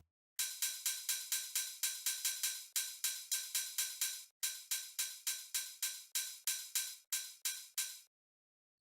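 Hi-hat from the drop of a trance track, given extra sustain. It plays a steady, rapid run of bright, hissy hits with lengthened tails, broken by two brief gaps, clean and alone without talk.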